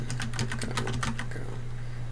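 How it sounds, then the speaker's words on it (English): Rapid keystrokes on a computer keyboard at a terminal, a quick cluster of clicks followed by a short Control L shortcut press, close and moderately loud over a steady low electrical hum. "Being able to just hit Control L to clear your screen"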